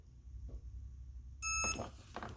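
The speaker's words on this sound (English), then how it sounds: "Alright, this thing is about to beep." A quiet room, then a heat press timer beeps loudly in a short repeated burst, with faint handling noise around it.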